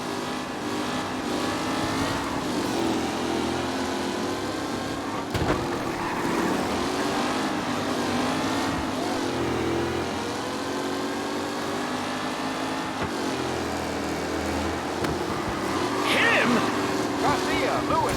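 Race cars in Mafia Definitive Edition drive at speed with a continuous loud engine drone, revving and shifting pitch, with people talking over it.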